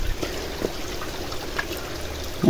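Well water trickles down outdoors near a river, a soft continuous dribble with occasional small splashes, steady and close.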